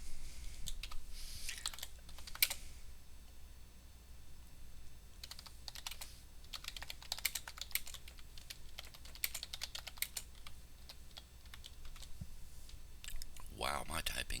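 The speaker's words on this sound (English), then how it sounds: "my typing is terrible" Typing on a computer keyboard in bursts of quick, close clicks with short pauses, moderately loud against a quiet room hum, while coding checkboxes and radio buttons in Visual Basic.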